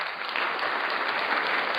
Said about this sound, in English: Get a round of applause.